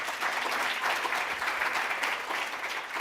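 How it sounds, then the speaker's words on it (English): Audience applause for the four speakers at a live sustainability finance debate in Singapore, a steady dense wash of clapping from a sizeable crowd, sustained and even for the full three seconds with no voices over it. "a round of applause for all 4 speakers"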